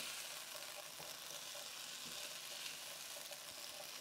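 Beans from the cupboard heating in a pan while being stirred, a steady broadband sizzle with soft scraping stir sounds running continuously and close, no talking.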